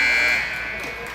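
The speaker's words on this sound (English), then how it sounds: "Penalty expires, and there's the buzzer." A hockey arena buzzer blares loud and sustained to end the period, tapering slightly as it rings out.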